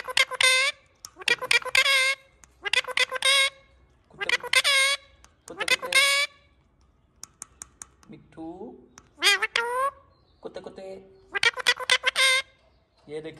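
A pet parrot lets out a series of loud, rapid squawking bursts and harsh talking-like calls, close by and separated by short pauses.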